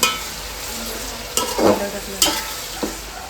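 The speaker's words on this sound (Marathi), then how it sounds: "इकडे कांदा एकदम ताई मस्त परतवून घेतात" Onions sauté in a pan, a continuous frying sizzle broken by several scraping stirs of a spatula, heard up close with no talking.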